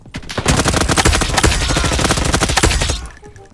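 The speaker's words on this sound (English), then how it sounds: "No, this is an M4 that's all iced out." Rapid automatic fire from an iced-out M4 rifle in the Roblox Call of Duty game, a loud unbroken burst of shots lasting about two and a half seconds before cutting off.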